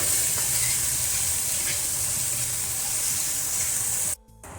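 Ground ginger and garlic sizzle in hot oil with cumin seeds, a loud, steady frying hiss close up that runs without a break before cutting off abruptly near the end.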